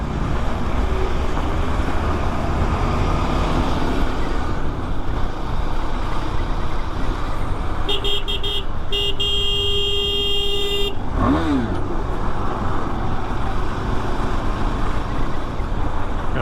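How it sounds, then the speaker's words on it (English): Steady road traffic roars around a motorcycle on a morning breakfast ride near Igatpuri, India. A car horn blares for about three seconds midway, followed by a vehicle passing close by. "The traffic never dies, the traffic never goes away"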